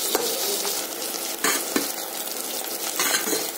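Sliced onion, ginger and garlic frying in hot oil, a loud close continuous sizzle broken by scraping stirs of a spoon against the pan.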